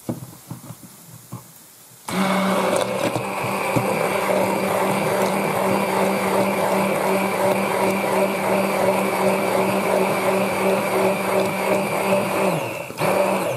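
A kitchen electric mixer or blender beats a tart filling seasoned with nutmeg and a pinch of salt, a steady loud motor whir starting abruptly and running evenly for about eleven seconds before cutting off.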